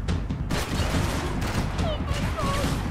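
Rapid gunfire and bursts in the Max Payne video game during a sniper ambush, loud sharp shots packed close together over a busy battle mix with a voice briefly talking.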